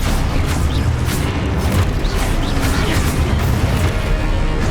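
Rapid fiery blasts from the Confringo spell in Hogwarts Legacy burst one after another over a dense, loud game soundscape, with booming impacts and crackling bursts repeating steadily throughout.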